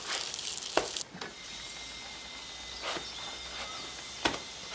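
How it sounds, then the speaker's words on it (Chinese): Chive pockets pan-frying until golden in a home kitchen pan, giving a soft, steady sizzle with a few sharp clicks and taps of a utensil scattered through it. "这韭菜盒子烙的啊"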